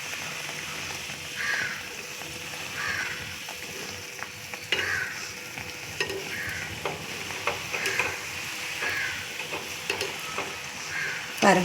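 Pieces of sweet potato adhirasam fry steadily in hot oil, a continuous close sizzle with small bursts and occasional stirring clinks, no talk.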